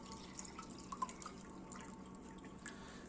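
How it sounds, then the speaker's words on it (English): Water from a kitchen source trickles into a glass, a faint, steady light pour with a few soft drips and no talking. "So here, I just take some basic water and add to my glass."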